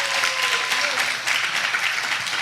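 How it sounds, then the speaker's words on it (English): A congregation claps for Dr. Wallace at a church event, a dense, continuous wash of hand claps that holds steady and loud throughout with cheering voices mixed in. "let's give Dr. Wallace another hand clap praise"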